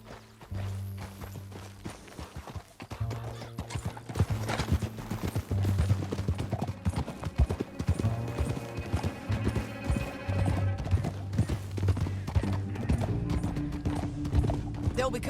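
In the video game Red Dead Redemption 2, horse hooves clatter rapidly in a galloping rhythm, loud and close, under a stirring musical backdrop with occasional other effects.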